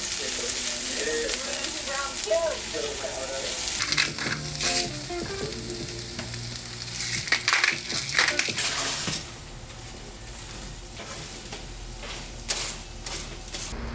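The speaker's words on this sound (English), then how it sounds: "So the fries are in there already. We are in the process of caramelizing our onions." Fries frying and onions caramelizing in a home kitchen, a steady close sizzle with occasional stirring and utensil scrapes throughout, loud and continuous with no talk.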